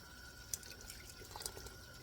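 Water is poured into flour in a home kitchen to make a thickening for oxtail gravy, heard as a faint, brief trickle with a few small drips and splashes.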